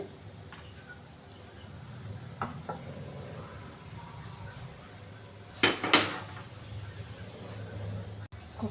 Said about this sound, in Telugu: స్టవ్ వెలిగించి కుక్కర్ పెట్టాలి